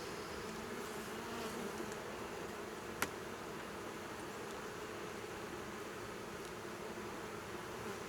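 Soft, steady buzzing of honeybees during a hive inspection, a faint continuous drone throughout with one brief sharp tick partway through.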